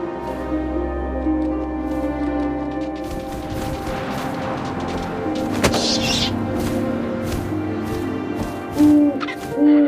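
An owl hoots in the video game What Remains of Edith Finch, over a soft wind bed. A few short, clear hoots come near the end, with scattered sharper sounds before them.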